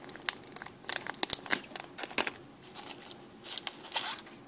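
A small plastic packet of charms and findings crinkles in irregular, close bursts as it is handled, quiet and alone.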